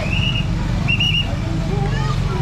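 Short whistle blasts, one brief and one slightly longer, ring out over a loud, steady crowd babble and traffic at a packed cemetery during All Saints' Day.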